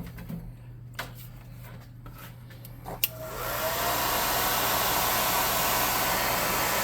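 A hair dryer switches on after a few quiet clicks and handling sounds, then blows a steady, loud airy roar while drying a painted miniature figure for a tabletop game.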